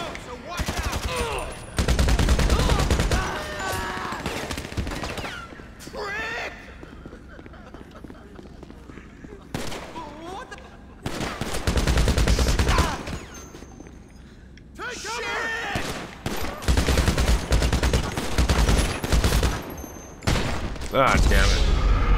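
Gunfire in the video game GTA Online, bursts of rapid automatic shots and single cracks coming in several loud volleys with quieter gaps, mixed with other game sounds.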